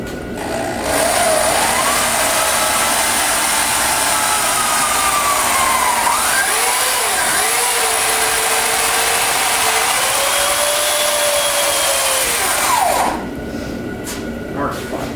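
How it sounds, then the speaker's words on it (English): An old half-inch electric drill spins a paint mixer paddle through self-leveling compound poured over a wood floor, a loud close whine that rises and shifts in pitch for about twelve seconds, then winds down. "I use a paint mixer on an old 1/2-inch drill."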